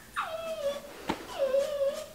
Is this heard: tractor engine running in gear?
no